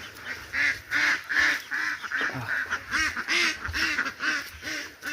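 Domestic ducks in their housing pen quack and honk continuously, a dense chorus of repeated nasal calls from several birds, fairly close and with no talking.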